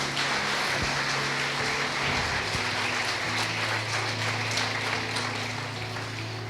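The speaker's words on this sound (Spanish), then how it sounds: "Dale un aplauso a Cristo Jesús" A church congregation applauding together, a steady dense wash of clapping that fills the whole stretch evenly and close, with a low sustained hum beneath and no talk over it.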